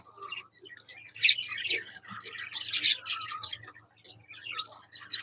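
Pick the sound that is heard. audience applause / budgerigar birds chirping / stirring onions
budgerigar birds chirping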